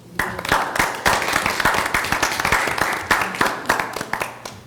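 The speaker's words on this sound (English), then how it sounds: "I'm going to give her a round of applause" A city council meeting audience gives a round of applause for Ms. Florence Rouser in her 96th year, brisk, fairly close clapping from a modest group, sustained and evenly loud throughout.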